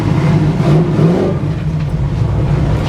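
Engine of a classic Chevrolet Camaro runs and revs up close, a loud, steady rumble with swelling throttle surges, heard alone without talk.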